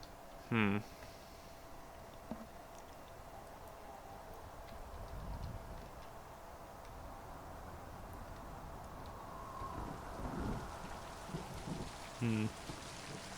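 Soft, steady rain in the video game Mind: Path to Thalamus patters in the background, with two brief sharp blips, one near the start and one near the end.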